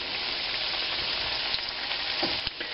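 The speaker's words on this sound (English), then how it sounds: "I'm going to let these fry for about 4 minutes." Crab cakes sizzle steadily in a frying pan, a dense, continuous crackle with occasional louder pops, heard alone without talk.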